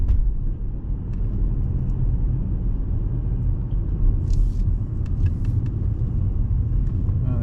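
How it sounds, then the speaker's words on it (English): A 2017 Audi S7 Prestige with sport exhaust gives a steady, deep engine rumble and growl that holds loud and even throughout, with no voices. "when you get on it, there's a good bit of growl to it, muscle with the sport exhaust"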